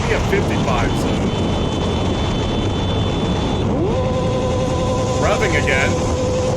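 A motorcycle engine revs up, its pitch climbing and holding, over loud road and wind noise while voices speak briefly.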